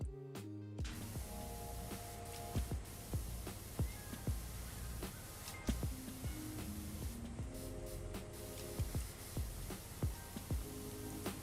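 Cats meowing in Powerwash Simulator, several short mews popping out at irregular intervals over a steady spray hiss and background game music.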